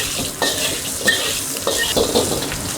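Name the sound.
prawns frying in a wok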